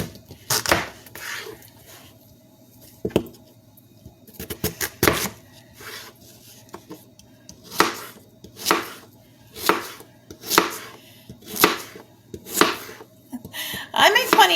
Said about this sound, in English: So we're just going to finish cutting the potatoes.